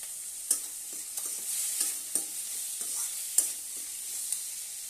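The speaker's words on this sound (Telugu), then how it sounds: "ఈ టమాటో అండ్ ఆనియన్ కాసేపు వేగాలి" Tomato and onion fry with turmeric in a pan for an aloo tomato curry, a steady hiss broken by several sharp scrapes of stirring, close by, with no voices.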